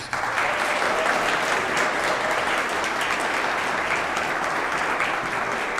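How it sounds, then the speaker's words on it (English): Sustained applause from an audience at a teacher of the year awards ceremony, a steady dense wash of clapping that holds at even loudness from start to finish with no talk over it. "let's give them a big round of applause"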